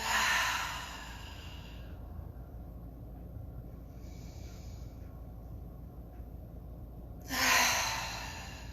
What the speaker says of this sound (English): Let's take a cleansing breath or two, inhaling through the nose. Exhale out an open mouth.